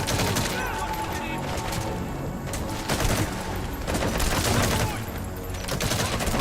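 Dense bursts of video game gunfire in Metal Gear Solid V, a crackling fusillade of overlapping shots in repeated surges, with talk over it.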